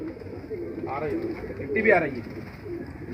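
Pigeons coo softly beneath someone talking in Hindi-Urdu, the low burbling calls mixing with his speech over a few seconds at a keeping loft of pale bajra-coloured flying pigeons.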